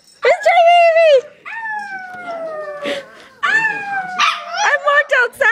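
A small chihuahua barks and yips in sharp, high bursts, close and loud, with whimpering, whiny tones between the barks.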